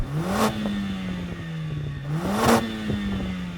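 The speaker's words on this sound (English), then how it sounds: "Let's compare the sound from these two 2-litre engines, see if there's a difference." A Mercedes-AMG 2-litre car engine revs twice, each rev rising and falling in pitch, with a steady idle between the bursts.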